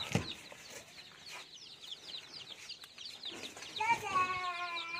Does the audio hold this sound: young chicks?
yes